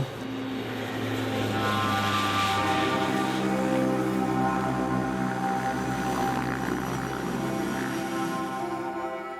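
A small propeller airplane serving a remote district drones steadily, its engine hum loud and close with a continuous tonal buzz and no talk.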